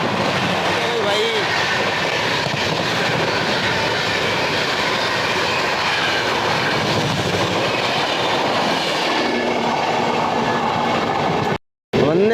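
Anand Vihar superfast express train overtaking on a parallel track, a loud, continuous rumble and clatter of wheels and carriages close by for the full length, ending in a brief cut to silence near the end.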